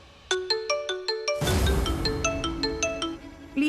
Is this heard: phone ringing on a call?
yes